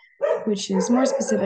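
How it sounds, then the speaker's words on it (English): Dogs bark and yip in several quick bursts, fairly close, overlapping a person who keeps talking through the whole short stretch. "pardon my dogs"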